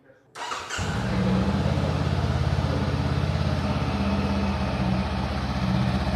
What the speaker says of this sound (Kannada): ಎಂಜಿನ್ ಒಂದ್ಸತಿ ಸ್ಟಾರ್ಟ್ ಮಾಡಿ ಎಕ್ಸಾಸ್ಟ್ ನೋಡ್ರಿ ಹೆಂಗೈತಿ.